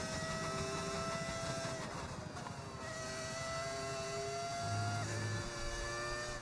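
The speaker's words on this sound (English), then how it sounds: "How do I get this engine sound?" A modded F1 car engine in the F1 26 racing game screams continuously at high revs, its pitch climbing through gears with short dips at the shifts, loud and steady throughout.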